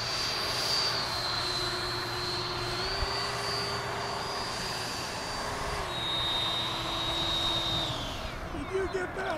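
A small RC model airplane buzzes steadily overhead while coming in to land at an RC field, its whining motor pitch shifting down and then fading near the end.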